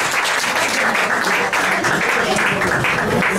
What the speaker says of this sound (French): les applaudit encore très fort